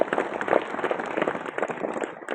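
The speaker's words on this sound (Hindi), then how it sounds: "तो एक बार इन सभी बच्चों के लिए जोरदार ताली हो जाए।" An audience at a Rajasthani school event claps for the children, a dense, steady patter of many hands, moderately loud and continuous, with no voices on top.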